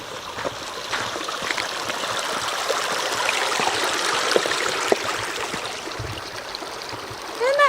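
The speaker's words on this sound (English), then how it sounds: "Oh, it's the creek!" A creek in Fish Canyon rushes and trickles steadily over rocks, a continuous close wash of water with a few faint clicks and a brief noise near the end.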